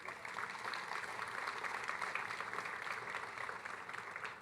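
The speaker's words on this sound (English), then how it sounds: "Can I get another round of applause for everyone who's won a prize so far today?" Graduation ceremony audience at the University of Toronto applauding prize winners, a steady, fairly faint wash of many hands clapping at a distance, continuous with no talk over it.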